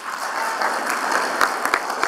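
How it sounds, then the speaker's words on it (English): A leadership and service awards ceremony audience applauds in a brief, fairly dense round, with a few louder close claps popping out near the end. "Give one more round of applause to Cameron Elner."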